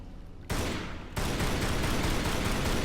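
Lara Croft firing her guns in the video game Tomb Raider: Anniversary: loud rapid gunfire bursts that start abruptly and build into a dense, continuous volley with no talking.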